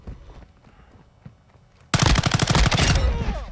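SIG Sauer MCX Rattler chambered in .300 Blackout firing in Call of Duty Modern Warfare, a sudden loud, sustained burst of rapid automatic shots lasting well over a second, close, after a quieter stretch of faint game sounds.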